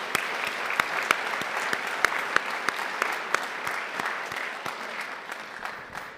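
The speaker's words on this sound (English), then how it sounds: "we want to give them a round of applause for being excellent" An audience at a school board meeting claps to honour student athletes. The applause is steady, fairly even and moderately loud, and fades slightly toward the end.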